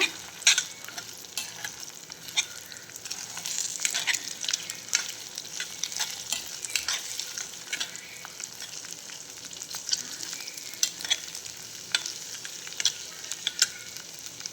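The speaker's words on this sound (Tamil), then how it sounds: "இந்த முட்டையை பொரிக்கிறதுக்கு மட்டும் கொஞ்சம் எண்ணெய் அதிகமாக ஊற்றி சேர்த்துக்கங்க" Eggs fry steadily in extra hot oil, a continuous crackling sizzle dotted with sharper pops and spits throughout.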